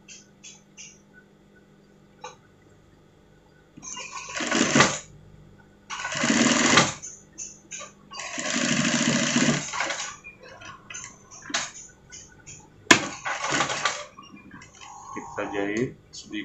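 A sewing machine stitches a Doraemon-style pocket onto a sweater in several whirring bursts of one to two seconds each. Quiet pauses separate the bursts, and soft handling noises fill the gaps.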